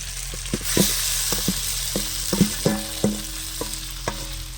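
Mashed vegetables for vegetable chops stirred into grated ginger frying in a pan produce a low background sizzle punctuated by repeated knocking taps and scrapes of a spoon against the pan, with no speech.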